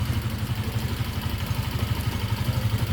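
A 2021 Janus Halcyon 250 retro motorcycle idles with a steady, throbbing, slightly clattery low pulse, close and fairly loud, with no voices over it.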